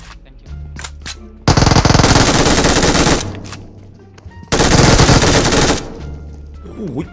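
Two long, loud bursts of machine gun fire from an MG in the mobile battle royale game PUBG Mobile, each lasting well over a second, with quieter game sounds between them.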